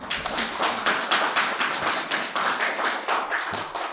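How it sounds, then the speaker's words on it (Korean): Audience applause welcoming guests at a Busan youth policy seminar, dense rapid clapping from a hall full of people, close and loud, sustained evenly for the whole stretch. "큰 박수로 환영해 주시기 바랍니다"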